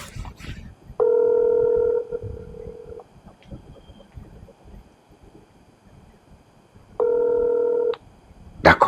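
Two ringback tones on an outgoing phone call, each a steady electronic tone lasting about a second, separated by a few seconds of quiet room noise.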